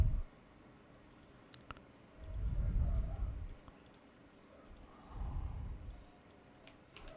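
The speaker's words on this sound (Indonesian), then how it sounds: "Ini saya klik kanan edit." A computer mouse gives a few faint, sharp clicks during right-click editing in an accounting program, scattered over low room noise and soft thuds and rumbles.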